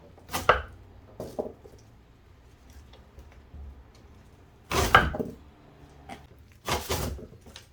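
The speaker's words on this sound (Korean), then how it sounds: "그리고 이제 일부는 큼직하게 썰어서 당금주를 담을 겁니다." Medicinal herb root being chopped into large chunks with a knife on a board for infusing liquor: four sharp, separated chops, two early and two later, with quiet gaps between.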